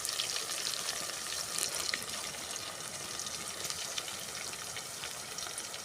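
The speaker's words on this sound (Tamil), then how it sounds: "அந்த எண்ணெயிலே கிடந்து அந்த காய் பழுவாக்காய் வெந்துடணும்" Palluvakkai vegetable pieces sizzle and crackle steadily in hot oil for a village-style curry, a busy, even frying hiss with small pops, close and fairly quiet.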